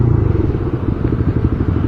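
A close, loud motorcycle engine burbles with rapid pulsing exhaust throbs, with a brief rev-matching blip on a downshift partway through, with no talking.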